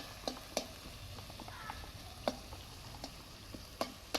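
Masala for a mutton curry sizzling in a pan as a little water goes in: a steady, soft frying hiss with scattered sharp ticks and crackles, fairly quiet and close.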